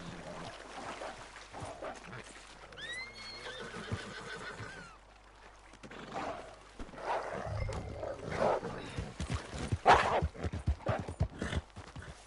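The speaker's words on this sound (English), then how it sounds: "come on, horse, stop it." A horse in the Red Dead Online video game whinnies, then its hooves clip-clop through the wilderness in an uneven rhythm, fairly close but quiet, with no talk over it.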